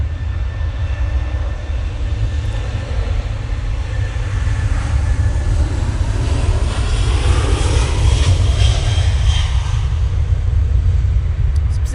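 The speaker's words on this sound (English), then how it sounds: "It's positioning flights for Jet2 off to Stansted" Jet2 passenger jet on a positioning flight at Manchester Airport, a steady loud engine roar with broadband rumble that builds slightly in the second half, continuous throughout with no voices.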